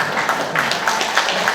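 Applause from a lecture audience at a foundation launch event, steady moderate clapping lasting throughout, with a broad crackling texture and no clear talk.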